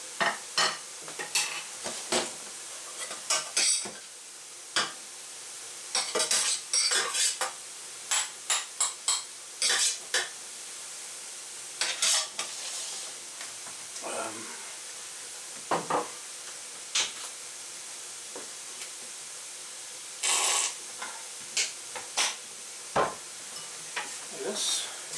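Fried rice being stirred with ketchup in a pan, a run of sharp, irregular scraping and clanking strokes of a utensil against the pan over a faint background, with quiet gaps between bursts.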